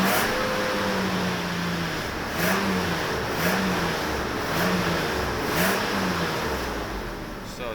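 A Mercedes S600 coupe V12 idles steadily and then blips its throttle several times in quick, regular rises and falls, a mid-pitched engine sound close by with no talk over it.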